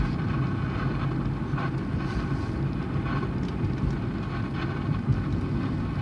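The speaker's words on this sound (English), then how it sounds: "Those are 50 mile per hour wind gusts" Roaring 50 mph gale-force wind gusts buffet the microphone in a constant, heavy rush, swelling into stronger gusts now and then.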